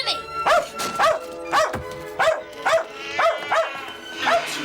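A dog barks in repeated sharp bursts, about eight of them in a loose rhythm, close and fairly loud, indoors in a British countryside house as a scene unfolds.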